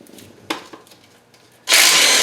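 A small Ryobi impact driver loosens 14 mm engine bolts during an in-place rebuild of a KA24DE engine. Faint shuffling and clanks come first, then a sudden loud, sustained hammering rattle runs close up to the end.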